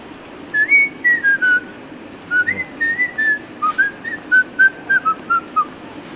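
A person whistles a melodic tune, clear and close, in short phrased notes with brief pauses between runs, over a faint room background.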